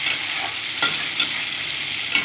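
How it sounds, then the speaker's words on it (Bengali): Eggplant frying in a pan, a steady bright sizzle throughout with a few sharper crackles and stirring scrapes, close and fairly loud, no voices. "বেগুনটাকে ভেজে যাক।"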